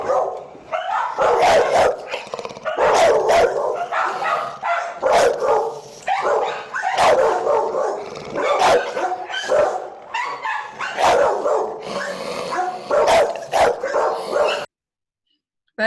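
A shelter dog barks in a steady series of loud, close woofs and yips with some whimpering between them, carrying on for most of the stretch before cutting to silence near the end.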